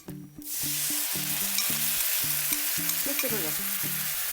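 Tteokbokki rice cakes with cooked garlic sizzle loudly and steadily in a hot pan as the sauce goes in and gets stirred, with light music playing underneath.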